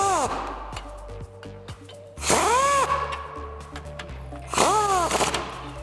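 An impact or ratchet tool drives a 22mm socket to snug suspension bolts on a Toyota Tacoma lift kit install, in bursts of whirring with rising-falling pitch, close and loud, separated by quieter shop noise.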